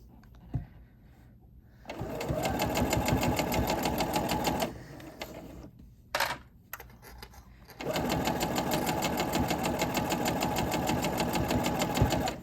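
A sewing machine stitches a seam on a silk head scarf, running in a loud steady whirring chatter for a few seconds, pausing with a couple of clicks, then running again at the same pace.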